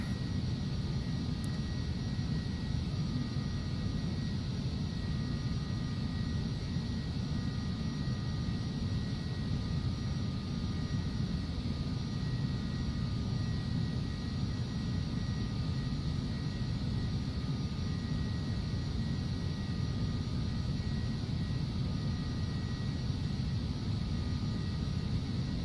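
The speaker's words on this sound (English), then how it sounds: "Just gonna let the aircraft slow down slowly here." Steady, loud broadband roar of an Embraer Phenom 300 business jet in flight, heard from inside as it slows on descent toward a valley in Alaska, with faint high tones over a constant low-frequency rumble.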